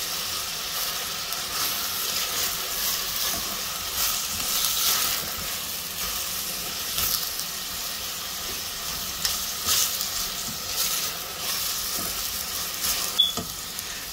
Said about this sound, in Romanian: Voi lăsa să călească ardeiul și ceapa